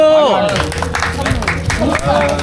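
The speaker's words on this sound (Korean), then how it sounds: "박수!" A small group of Koreans at a foreigners-only club in Chiang Mai, Thailand, breaks into close, lively clapping during a members' meetup, mixed with chatter and background music.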